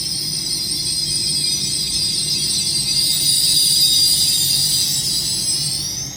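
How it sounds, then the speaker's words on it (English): An LNER Azuma class 801 train departing Peterborough station on the East Coast Main Line gives a steady, loud high-pitched whine over a low rumble, building slightly then easing as it pulls away. "Departing now is your delayed 1248 LNER Azuma service to London King's Cross."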